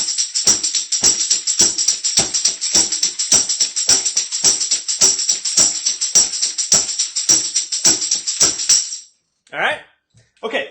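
A second line drum beat groove played fast on a drum kit, with a steady shimmering cymbal over crisp rhythmic snare and kick hits for about nine seconds, then a short spoken bit at the end.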